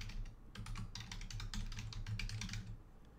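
An email address is typed on a computer keyboard as a quick, close run of soft key clicks at an uneven rhythm, with no one speaking.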